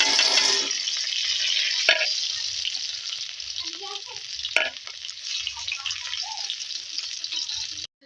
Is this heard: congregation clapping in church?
no